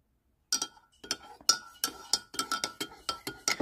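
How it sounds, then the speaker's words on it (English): A spoon clinks against a cup while stirring pour-over coffee, making a string of bright, irregular taps up close after a brief silence. No one talks. "Now we got to stir it."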